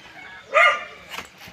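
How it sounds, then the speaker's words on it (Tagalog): A single sharp dog bark near a house yard, close and loud, followed by a fainter yip. "Mga aso, takay na ng takaynan."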